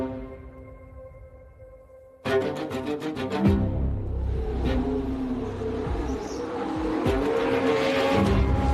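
A Haas Formula 1 race car at Silverstone circuit bursts in loud and close after a quieter opening, its high-pitched engine screaming and sustaining as it drives along the track, with no talking.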